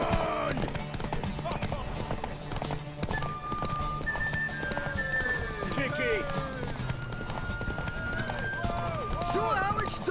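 Horses gallop in a race in The Witcher 3, with rapid, loud, close hoofbeats that continue throughout, along with occasional neighs and shouted voices talking over them.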